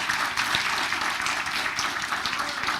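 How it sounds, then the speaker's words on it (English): An audience at a township committee meeting applauds three young artists, a dense, sustained wash of many hands clapping at close range for the whole stretch, with no voices over it. "So just another big round of applause for our 3 artists."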